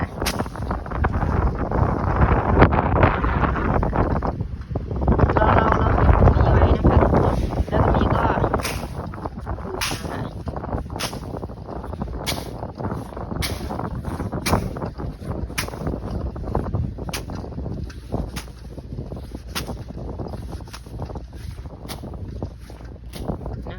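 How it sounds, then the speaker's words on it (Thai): Strong wind gusting across an open field where plastic sheeting is being laid and covered with soil, a loud continuous roar with heavy microphone buffeting, easing after a few seconds into softer steady wind with scattered rustling and knocks. "มันลมมันแรงนะคะทุกคน"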